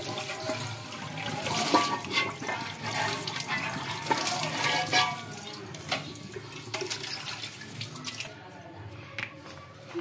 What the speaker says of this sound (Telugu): ఇప్పుడు దీన్ని కడుక్కుందామండి విమ్ లిక్విడ్ వేసి